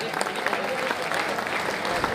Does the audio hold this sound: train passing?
no